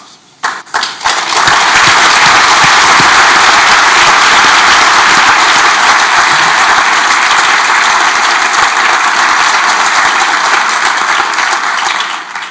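A large conference audience welcomes Aung San Suu Kyi with applause that starts with a few scattered claps, then swells within two seconds into loud, sustained clapping that holds steady and eases slightly at the end.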